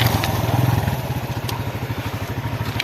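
Off-road motorcycles driving through water on an off-roading trip, a rough sputtering engine putter with clattering pulses, close and moderately loud, no voices.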